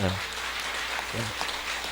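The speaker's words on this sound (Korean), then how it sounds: "큰 박수 한번 해주시기 바랍니다" A congregation at a Sunday morning church service applauds with steady, dense clapping throughout, heard at a moderate level with a voice faintly present underneath.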